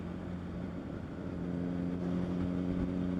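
A Honda CBR1000RR motorcycle hums steadily from its engine and exhaust at a constant pitch and rises slightly in loudness toward the end, heard from the rider's position with no speech.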